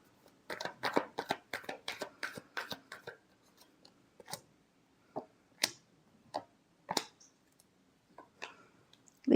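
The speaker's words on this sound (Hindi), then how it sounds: "Last shuffle." A tarot deck being shuffled during a reading, a brisk run of close card riffles and slaps followed by a few sparser taps, quiet and without speech.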